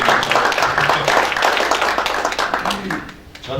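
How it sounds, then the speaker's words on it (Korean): Audience applause greets newly appointed members of a writing committee at a formal ceremony, a dense patter of many hands clapping close by while a voice speaks over it. "우리 박수로 여러분들 축하해드리면서"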